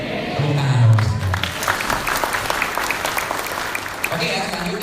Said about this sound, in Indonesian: Tepuk tangan Bapak sekalian.